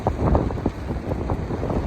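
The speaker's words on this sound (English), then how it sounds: "It's crazy windy up here." Strong wind buffets the microphone in continuous heavy gusts atop a high suspension bridge, a loud roaring rumble with no voices.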